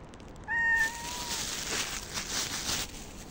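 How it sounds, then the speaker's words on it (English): A black and white cat gives one clear meow up close outdoors, followed by soft continuous background hiss and rustle. "This is a new white black cat."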